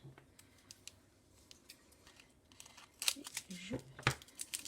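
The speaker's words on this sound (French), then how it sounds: "Et je découpe mes petits sachets." Scissors snip through small bags, several quick crisp cuts bunched close together near the end, with soft crinkling and a voice speaking quietly beneath.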